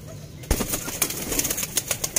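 Ferozpuri pigeons for sale at a loft coo and shuffle nearby, with a sudden burst of wing flapping followed by scattered soft calls and rustling.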